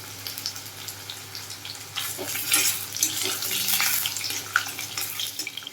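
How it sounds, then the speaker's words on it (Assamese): Potato pieces frying in oil in a kadai give off a soft, steady hiss and crackle that builds slightly partway through, heard quietly with no talking. "আনফালে এখন কেৰাহীত এই আলু কেইটুকুৰা অকণমান ৰঙচুৱাকৈ মই ভাজি ল'ম।"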